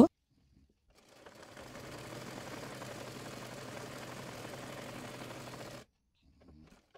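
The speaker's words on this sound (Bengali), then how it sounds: "অপর পাশের সাইডটিও সেলাই করে নেব" A sewing machine stitches the side seam of an umbrella-cut baby frock, running in one steady continuous burst for about five seconds, close and moderately loud, with short silences before and after.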